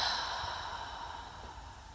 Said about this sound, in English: And then breathing out your mouth for 4 counts.